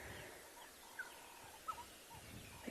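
Distant turkeys gobble faintly in open nature, two short calls standing out against a quiet, low background hush.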